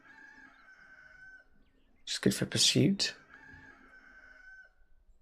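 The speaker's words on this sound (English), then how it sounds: "Cockerel going along in the background." A cockerel crows once in the background, a loud, drawn-out cock-a-doodle-doo lasting about a second, while someone talks quietly before and after over faint music.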